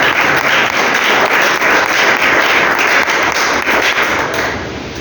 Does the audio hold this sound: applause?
yes